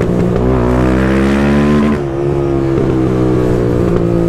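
A Honda CB Twister motorcycle engine with a loud aftermarket exhaust revs and holds a rough, throaty drone, dipping briefly before roaring steadily again, close by.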